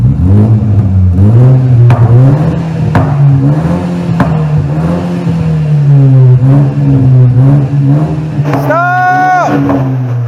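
A BMW Z4 with a custom exhaust and muffler tips revs steadily through several RPM levels, a loud sustained engine drone that rises and falls, with a brief higher-pitched whine near the end.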